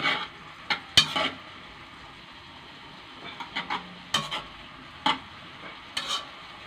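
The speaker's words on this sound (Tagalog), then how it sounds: "haluin natin mga idol, haluin" Spoon or spatula stirring food in a pan while cooking a sauté of boombo tree shoots, giving several scraping, clinking strokes in short bursts with faint sizzling between, fairly close and without talk.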